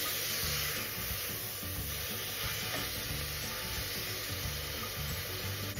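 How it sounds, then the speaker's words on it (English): Chopped onion and fenugreek leaves sauté in a pan for a pumpkin mixed-veg bhaji, giving a steady, close sizzle with soft stirring scrapes throughout and no talking. "I'm going to saute them until the fenugreek leaves releases its fragrance"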